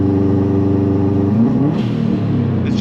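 A Subaru WRX engine with a misfire under load revs up from a steady idle, the pitch climbing smoothly partway through; loud and close with no talk.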